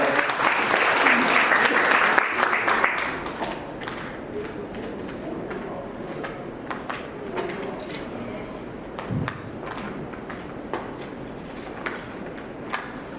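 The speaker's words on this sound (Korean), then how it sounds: "다시 한번 큰 박수 부탁드리겠습니다." Applause from a seminar audience at a Korean smart construction event, a fairly loud burst of clapping over the first few seconds that quickly fades to a low murmuring room with scattered faint sounds.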